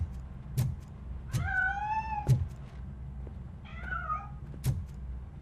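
A cat in the video game RoboCop: Rogue City meows twice, long wavering cries separated by a pause, over a low hum and a few sharp knocks, with no voices.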